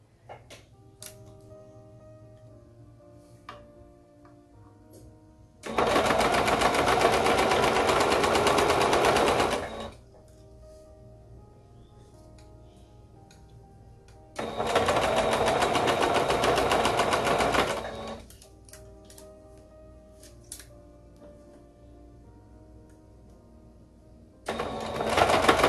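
A sewing machine stitches fabric while a baby romper is sewn, running in three loud sustained bursts of about four seconds each, with quiet pauses between them as the fabric is pinned and repositioned.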